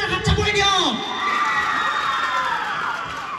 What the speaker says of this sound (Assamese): এটা জোৰদাৰ উৰুলি চৰি